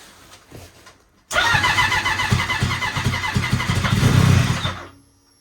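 Twincharged Ski-Doo Apex snowmobile engine on snow, a brief sputter, then a sudden catch into a loud, rough, pulsing idle that swells slightly before shutting off.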